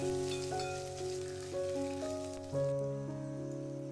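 Steady sizzling of curry leaves and garlic frying in oil throughout, with a faint music-like tonal background and occasional soft stirring bumps; no talking.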